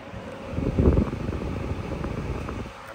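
Cadence Breeze 506 air cooler fan running at a higher speed, a steady close airy whoosh with low rumble that swells briefly before settling into a constant drone.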